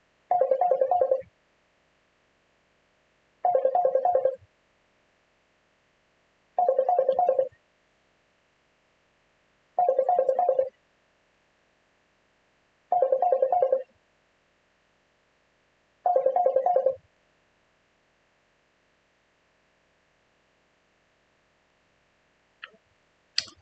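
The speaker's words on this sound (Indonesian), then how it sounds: "ada telepon" A telephone rings in six evenly spaced bursts, each about a second long with pauses of roughly two seconds between them. The rings are clear and close, and no one speaks over them.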